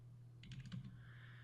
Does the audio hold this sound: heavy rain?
no